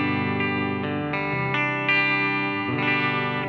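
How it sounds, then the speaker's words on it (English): Sustained electric guitar chords through a Fender Mustang Micro Plus ringing out, each change washed in its '65 spring reverb with a slightly distorted, shimmering tone. "I've got the red spring reverb"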